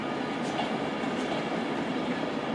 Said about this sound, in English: Coming out now is a Virgin Pendolino service off to Birmingham New Street